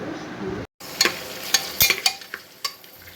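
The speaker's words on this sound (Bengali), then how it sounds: "পেঁয়াজ আর কাঁচা ঝাল সুন্দর করে ভেজে নিচ্ছি তেলে।" Onions and green chilies fry in hot oil with a steady sizzle, broken by a brief silence and then several sharp scraping and stirring clatters against the pan.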